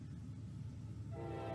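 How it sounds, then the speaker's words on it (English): Norfolk Southern locomotive 4090 sounds its horn, a distant sustained chordal blast rising in over steady rail rumble toward the end. "Ooh, that's a nice horn that 4090 has."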